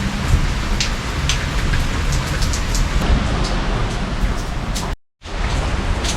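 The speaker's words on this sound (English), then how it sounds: "isn't the sound of rain just fantastic when you've been in 105-degree weather for some time?" Steady rain falls in woodland during very hot weather, a dense hiss of drops on leaves and ground, loud and close, broken by a brief silent gap near the end.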